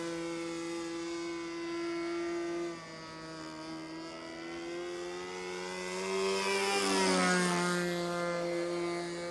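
A nitro model airplane engine drones steadily with a strong harmonic whine, then rises in pitch and loudness as it throttles up during a touch and go, heard alone without talk.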